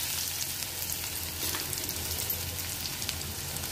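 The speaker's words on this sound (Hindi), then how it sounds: "अब इसमें हम डाल देंगे थोड़ा सा प्याज जो हमने रखा था आपके" Onion frying in a pan with roasted whole coriander and fennel seeds, a soft, even sizzle crackling steadily at low volume, alone without voices.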